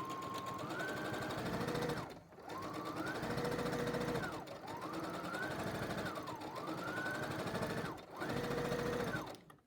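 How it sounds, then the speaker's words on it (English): A cheap Walmart sewing machine whirs steadily through several long straight stitching runs on a fabric face mask, pausing briefly between each, with its motor pitch rising and falling. "Right now we're going to stitch all the way straight down pretty quickly."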